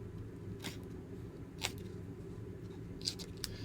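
Scissors snipping paper stamped dimensionals for a handmade card, a few quiet separate cuts spaced irregularly against a soft low background hum.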